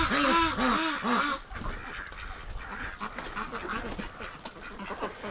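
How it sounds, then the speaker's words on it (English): Ducks on snowy ground quacking in a busy flock, a loud burst of overlapping nasal calls at first, then softer scattered quacks continuing close by. "the ducks are really eating a lot of snow"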